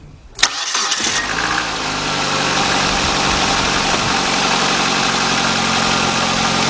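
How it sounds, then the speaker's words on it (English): A 1999 Nissan Altima with a 2.4 engine cranks briefly, catches with a sharp burst and settles into a steady, even idle, close and loud. "Then I'm gonna start this car up."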